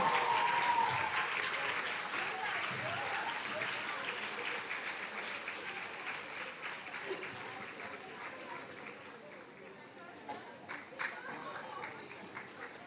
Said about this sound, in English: A big round of applause and heartfelt congratulations to all the participants.